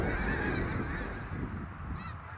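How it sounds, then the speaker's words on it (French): A large flock of geese arriving along the Saint-Lawrence in Québec in spring honks in a dense, continuous chorus of overlapping calls, loud and steady throughout. "C'est par milliers que les oies arrivent dans la province de Québec en mars et avril."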